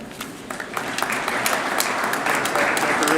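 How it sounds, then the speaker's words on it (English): A thin round of applause for a football coach at a high school signing day event, modest scattered clapping from a small audience, steady and fairly quiet throughout. "That's a pretty lame round of applause"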